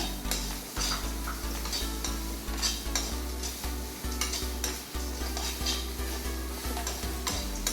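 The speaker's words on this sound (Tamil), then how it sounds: "இஞ்சி பூண்டு ஒரு கைப்பிடி அளவு 2 சம அளவுக்கு அப்படியே நல்லா வதக்கிக்கோங்க" Ginger and garlic sauté in a pot for a one-pot chicken biryani, a constant sizzle broken by regular scraping strokes of a spoon against the pot, close and rhythmic.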